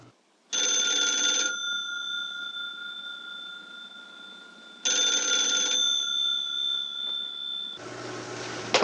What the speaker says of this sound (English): Answer your phone, Blondie.